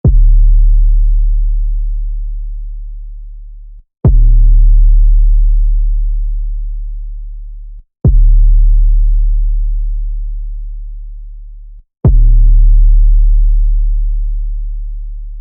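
An 808 bass processed with a transient designer plugin plays four long, loud booming notes, each starting with a sharp click and sustaining deep before cutting off, repeating evenly every four seconds.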